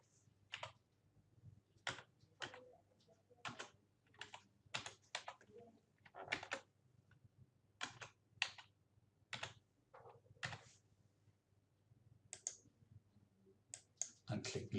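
A password is typed on a computer keyboard in short, quiet, irregular runs of key clicks, close by over a faint background hum, with no voice.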